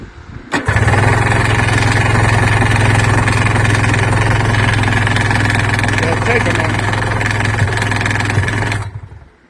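A Rotax engine with its rotary valve removed fires up and keeps running, a loud, steady close-range drone with a strong low hum that holds evenly for about eight seconds before cutting off abruptly.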